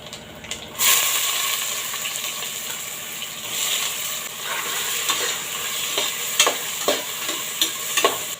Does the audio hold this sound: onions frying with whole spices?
yes